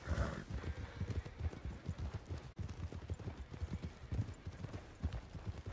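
Horse hooves clip-clop steadily in a Western video game set in 1899, a continuous rhythmic trotting of hoofbeats with faint background sound.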